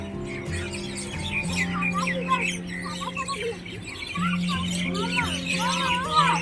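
Many birds crowded in village trees chirp and squawk in dense overlapping bursts, busier toward the end, over a steady low hum in the background.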